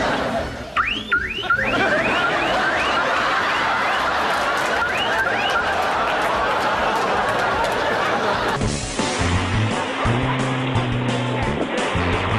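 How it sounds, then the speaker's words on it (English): A car alarm whoops through repeated rising chirps, loud and close over a constant wash of outdoor noise, then shifts to a lower steady wailing pattern. "Some car alarms are so sensitive, they even react to a wet butt."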